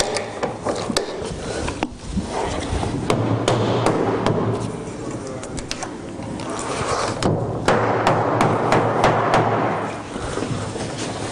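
Repeated hammer blows strike timber in irregular bursts, sharp close knocks ringing over scraping and shuffling of wood and clamps.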